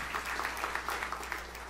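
A church congregation claps in a brief burst of steady, dense applause, fairly quiet, with no voices on top.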